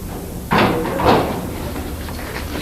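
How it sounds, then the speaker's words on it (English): A door in a room set up for a parole hearing is pushed shut, giving a firm thud and a second, softer knock about half a second later, close by against a quiet room hum. "hang on, I gotta close this door"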